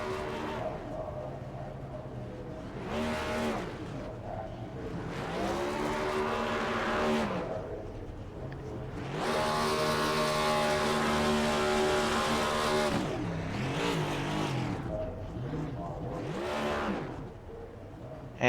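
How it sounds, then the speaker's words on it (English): Race car in a Turn 4 Cup Series All Star race at Dover doing burnouts: repeated loud engine revs rising and falling in long swells, with tire squeal and a sustained high-rev stretch in the middle, heard from the track. "As he's getting ready to get done with his burnouts"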